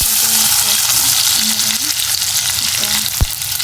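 Sliced onion frying in hot oil reused from cooking prawns for a masala curry, a steady close hiss of sizzling with faint tonal background and one short knock near the end.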